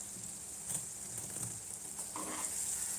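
Tomatoes cooking in a pan for chapati churma, a steady soft sizzle with occasional stirring scrapes, close and alone with no voices.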